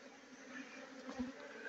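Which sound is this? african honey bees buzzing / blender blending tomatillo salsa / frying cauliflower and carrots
african honey bees buzzing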